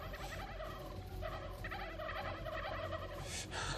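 Turkeys gobble over and over in the survival video game How to Survive 2, their rapid warbling calls layered thickly and continuously over a steady, loud game background with no talk.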